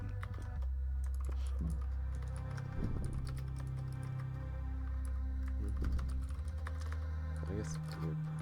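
Steady typing on a computer keyboard, a close run of quick clicks and key taps with brief pauses, heard over a constant low hum.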